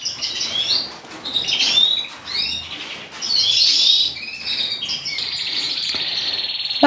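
Several birds chirp and tweet in bursts, with wings fluttering now and then, over a faint outdoor hum of insects.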